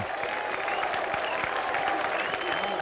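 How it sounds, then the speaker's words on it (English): A large rugby league crowd at Odsal Stadium in Bradford applauds players leaving the field, with steady close clapping and some cheering, while a commentator talks over it. "getting generous applause from this good crowd here at Odsal Stadium"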